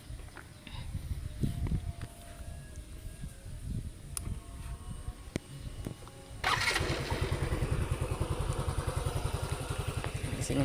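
A motorcycle engine, started remotely through a phone-linked IoT GPS tracker, cranks and catches, then idles with a steady, close, throbbing rhythm after some low background clatter.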